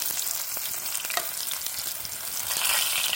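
Shorty shells sizzle over an open fire, a steady crackling fry with a few sharper pops, close by and continuous with no talking.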